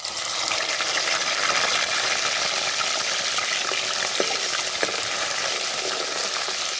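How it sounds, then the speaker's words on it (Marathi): Crab pieces fry in hot oil with cumin in a village kitchen, giving a loud, steady, close sizzle and crackle that runs without a break, with a couple of faint clicks near the end. "हे खेकड्याच मांदे बी या तेलात भाजून घ्यायचं"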